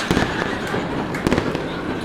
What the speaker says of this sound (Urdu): یہ فائر ورکس کی آواز ہے۔